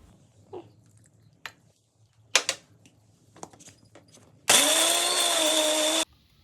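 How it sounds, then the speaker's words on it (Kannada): A mixer grinder whirs loudly for about a second and a half as it grinds coconut chutney ingredients with water and salt, following a few clunks and knocks of the jar being handled. "ಜಾರ್ಗೆ ಎಲ್ಲ ಇಂಗ್ರೀಡಿಯೆಂಟ್ಸ್ ಹಾಕಿ ರುಬ್ಕೋತಾ ಇದ್ದೀನಿ."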